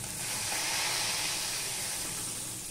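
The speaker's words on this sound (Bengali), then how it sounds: "এবার আমি মাছগুলো ভেজে নেব একটা একটা করে দিয়ে" Tilapia pieces fry in hot oil in a pan, producing a loud, continuous bright sizzle and hiss that holds steady from start to finish with no talking.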